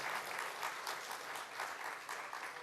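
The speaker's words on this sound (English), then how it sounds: "Could you please give her a round of applause?" An audience at a ceremony releasing 2019 CXC exam results applauds a teacher, Mrs. Patterson, with a continuous, fairly distant patter of many hands that holds steady throughout.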